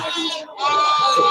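A goat bleats loudly at a livestock market in Melapalayam: two long, wavering bleats close by, split by a brief pause.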